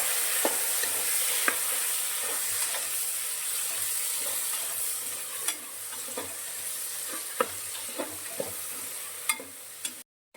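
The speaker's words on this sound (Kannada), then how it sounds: "ಆನಿಯನ್ ಈ ರೀತಿ ಬೆಂದಮೇಲೆ 2 ಟೊಮೆಟೊನ ಆಲ್ರೆಡಿ ಹಚ್ಕೊಂಡಿರೋದ್ರಿಂದ ಅದನ್ನು ಹಾಕೊಳ್ಳೋಣ." Onions and tomatoes frying in a pan for mushroom biryani, a constant bright sizzle with scattered sharp spoon clicks and scrapes as they are stirred, close and moderately quiet, no speech, ending abruptly.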